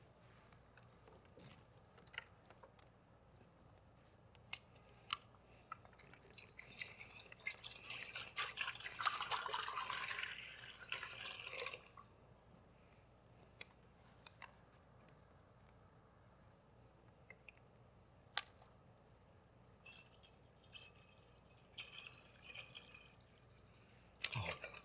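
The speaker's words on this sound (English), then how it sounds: "He poured water into the basin." Water is poured into a basin in a hushed room, a splashing, trickling pour lasting several seconds, with scattered drips and small clicks before and after.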